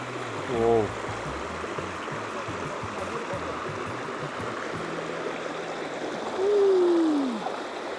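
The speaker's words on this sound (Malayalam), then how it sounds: "ഈ വെള്ളം ഇങ്ങനെ ഒഴുകുന്ന കേൾക്കാനും കാണാനും ഭയങ്കര രസമുള്ളൊരു സാധനം" Stream water flows continuously through a redwood forest at Warburton, Australia, with a steady rushing wash. Short tonal calls or voices break in near the start and again toward the end.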